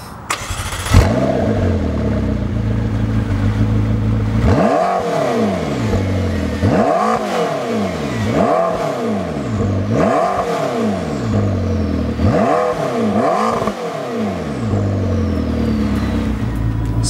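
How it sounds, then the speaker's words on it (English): A McLaren 650S Spider with sport exhaust revs repeatedly while stationary, a loud close series of about six sharp throttle blips rising and falling over a steady idle. "I'll show you guys some revs and what the sport exhaust sounds like."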